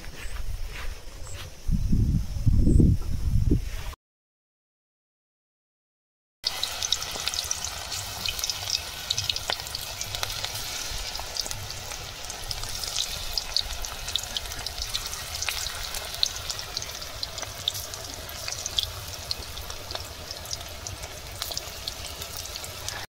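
Banana flower fritters (mochar bora) fry in hot oil in a Sundarbans village kitchen: a dense, continuous crackling sizzle, close and steady, with a brief louder clatter at the start and a short silent gap.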